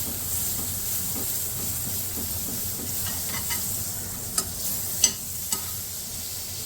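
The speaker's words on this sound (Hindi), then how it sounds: "एक पैन में मैंने 1 टेबल स्पून के बराबर लेना है बटर।" Butter sizzles in a frying pan with finely chopped garlic, a steady soft frying hiss running throughout, broken by a few sharp crackles and pops near the end.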